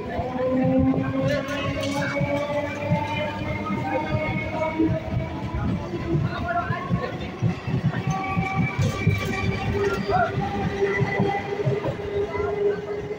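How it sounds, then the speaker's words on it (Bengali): A Hasnabad local train rolls into a station on a busy afternoon with many people about. Its wheels clatter steadily and a horn tone sustains the approach, heard from above the track while someone talks over it. "জাস্ট দেখুন হাসনাবাদ লোকাল ঢুকছে এখন"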